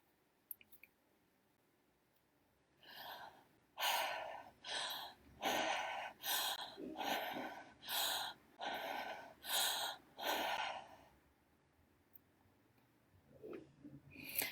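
Rapid charged breathing exercise for energy: about ten forceful, evenly spaced breaths in a quick rhythm, close and fairly loud, framed by quiet stretches before and after.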